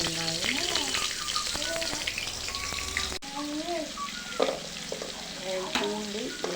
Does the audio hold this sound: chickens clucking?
no